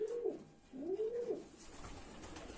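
A pigeon gives two close, soft cooing calls, each a smooth rising and falling hum, followed by a faint low murmur and background hiss.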